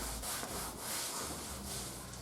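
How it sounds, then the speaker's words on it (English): Wet towel rubbed over the sanded keel area of an Outback kayak, a steady close swishing scrub in repeated strokes, about four passes, with no talking. "I've been using just a wet towel to wipe the sand area to get any loose material"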